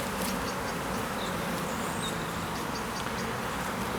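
Honeybees buzzing steadily around an open hive during a beekeeping hive inspection, a dense continuous hum of many insects close to the microphone, with no talking.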